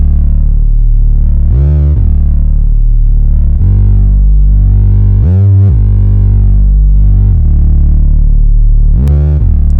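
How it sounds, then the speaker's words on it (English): A distorted saw synth (Hype Synth, Complex Saw sub preset) plays a gliding mono line, notes sliding into one another, with rhythmic kick-sidechained pumping swells and bright, gritty overtones. "This is the Hype Synth on the Complex Saw sub preset."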